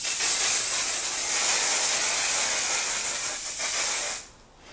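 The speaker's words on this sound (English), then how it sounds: "I'm going in with our setting spray." A makeup setting spray bottle releases a long continuous mist, a close, loud airy hiss lasting several seconds before cutting off abruptly into quiet.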